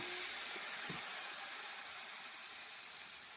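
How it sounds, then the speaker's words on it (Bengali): Water poured over spiced masala for a Bengali fish curry sets off a steady, even sizzling hiss in the pan that stays constant throughout, with no voices. "অল্প পরিমাণে জল দেব কষানোর জন্য"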